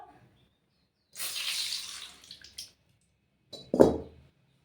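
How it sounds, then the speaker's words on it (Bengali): Used cooking oil, left over from frying soya chunks, is poured out of a pan in two separate bursts of splashing liquid. The first pour runs longer and the second is short, with near silence between them. "এই তেলটা ঢেলে দেবো"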